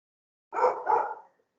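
Tied-up dog barking outside, a single short double bark, muffled and moderately loud, with no other sound around it during an online class meeting.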